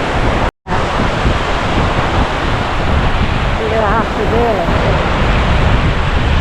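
Waves and surf wash onto a beach in Zante, a loud steady roar buffeted by wind noise on the microphone, with a brief dropout near the start and faint voices behind.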